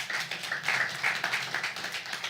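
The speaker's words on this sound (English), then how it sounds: "really a round of applause for this initiative" Applause from an audience at a quantum technology hub launch event, a steady wash of many hands clapping sustained through the moment, moderately loud with no voices over it.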